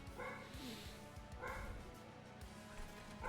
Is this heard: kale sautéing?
no